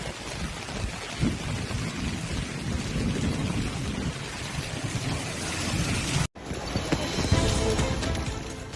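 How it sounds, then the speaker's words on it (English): A heavy flash-flood downpour in a Chinese city pours steadily as a loud, dense roar of rain, with low rumbling underneath, then cuts abruptly and continues. "The intensity of the rain was nothing short of astounding"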